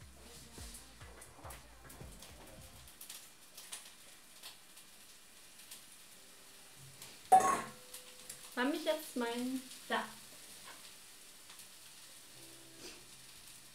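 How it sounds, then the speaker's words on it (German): Thickly sliced carrots go into a pan of frying Maultaschen, giving a faint, steady sizzle with a few louder stirring clatters, under quiet talking. "wir packen als nächstes die Karotten schon mal mit dazu"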